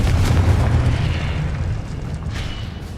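A Confringo blasting-spell explosion in the Hogwarts Legacy video game: a loud, close boom at the start with a rumbling low-end tail that fades over a few seconds.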